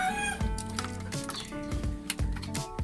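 A young gamecock stag clucks repeatedly on a farm, close and fairly loud, with short clucks and crowing-like calls in an uneven rhythm and no talking.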